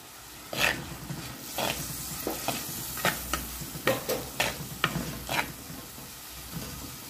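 Chili, masala and turmeric powders being stirred into onions frying in a pan for a Sri Lankan fish curry, with repeated scraping strokes of a spoon over a steady close sizzle and no talk.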